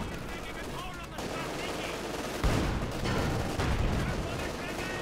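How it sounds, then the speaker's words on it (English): Continuous gunfire and explosive battle noise from the World War II strategy game Company of Heroes 2 during a 1v1 match, a dense steady roar of shots and booms with a louder burst midway, no clear talk over it. "Shots fired there, no sign of tracking."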